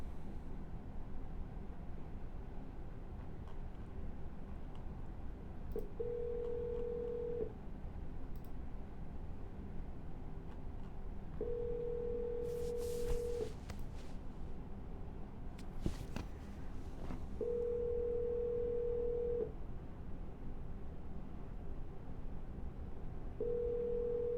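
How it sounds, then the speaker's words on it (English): A telephone redial to a seller's number, with a steady hum and regular short tones repeating every few seconds, plus a brief cluster of clicks partway through, with no voices. "We're gonna dial one more time."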